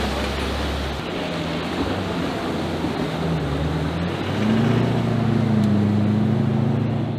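US armored vehicle fording deep water, a continuous loud engine drone with churning water wash that swells and rises in pitch partway through as the vehicle pushes deeper.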